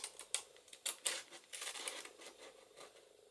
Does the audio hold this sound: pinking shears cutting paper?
yes